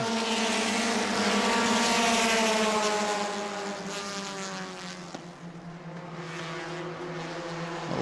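Race cars run a lap pack-wide on a short oval track at a family fun night, their engines droning loudly from mid-distance with a shifting, slightly falling pitch as they pass.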